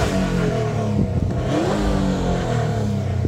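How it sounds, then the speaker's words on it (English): A car engine is revved close by, climbing and falling in pitch through a couple of throttle blips over a steady rumbling idle. "should I give it a rev for you guys?"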